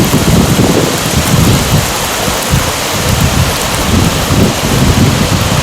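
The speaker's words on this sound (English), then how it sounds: "The raging river finding its way to the sea." A flooded river in spate rushes past in a loud, continuous roar of turbulent water, steady and close, with no voices.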